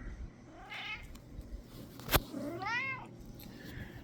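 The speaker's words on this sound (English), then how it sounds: "we got a cat." A pet house cat meows twice, soft and close in a quiet room, with a brief sharp click between the two calls.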